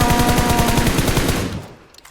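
Automatic gunfire from the video game PUBG Mobile fires as a fast, evenly spaced burst of loud, close shots lasting over a second before cutting off, followed by a few faint trailing clicks.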